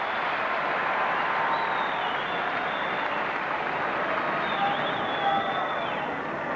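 A crowd cheers and applauds at the 2005 Roland-Garros men's final between Nadal and Puerta, a dense, sustained roar of clapping and shouting that fills the stadium without letting up.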